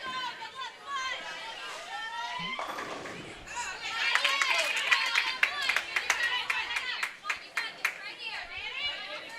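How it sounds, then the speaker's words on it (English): Parents in a crowd at a women's college bowling championship cheer and clap, with scattered quick handclaps and excited voices; the clapping builds in the second half over steady chatter. "A lot of parents here cheering on their daughters."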